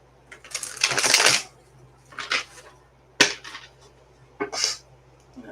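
A deck of tarot cards is shuffled in several quick riffling bursts, close and crisp, separated by short pauses and a sharp tap or two.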